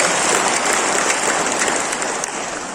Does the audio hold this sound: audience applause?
yes